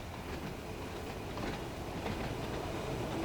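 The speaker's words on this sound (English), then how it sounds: "Definitely hear those brakes coming in." An Isle of Wight train in the Train Sim World 2 video game rolls along with its brakes coming on: a steady, fairly quiet rail rumble with a faint squeal emerging near the end, and no voices.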